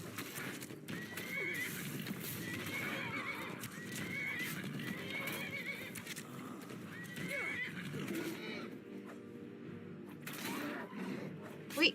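In Skyrim, fighting horses let out loud, repeated neighs and whinnies over steady clip-clopping hooves and a dense game background, continuing throughout with a sharp burst at the very end.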